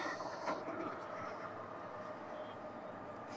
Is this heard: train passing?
yes